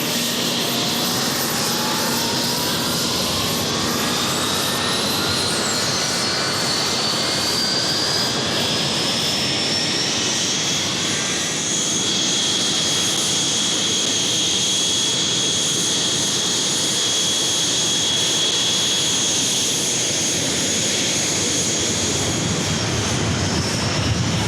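A jet aircraft of the Argentine Navy, armed with Exocet missiles, takes off from an airfield in southern Argentina, a loud sustained roar with rising whine that holds steady throughout.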